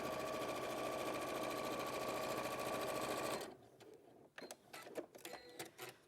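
A sewing machine stitches a line along the edge of a toy rabbit, running steadily and closely for about three and a half seconds before stopping, followed by faint handling clicks and rustles.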